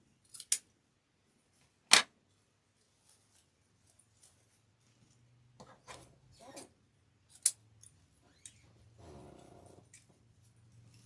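Scissors trim long yarn tails on a handmade wipe-your-paws door hanger, giving several sharp isolated snips spread across the quiet, with soft handling rustles and a low hum in between.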